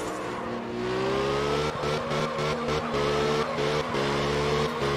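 In the drifting video game Absolute Drift, a car engine hums and revs in repeated throttle taps, its tone climbing and dropping with faint tyre squeal underneath, steady and fairly loud.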